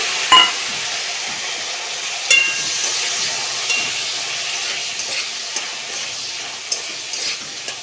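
Black cumin and spice powder sizzle in hot oil in a kadai, a steady frying hiss with a few sharp clicks and taps of a spoon against the pan, close and alone.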